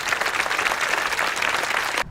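Audience at the Minnesota State Capitol grand re-opening applauds steadily, a dense, loud wash of clapping that holds for about two seconds and then cuts off abruptly.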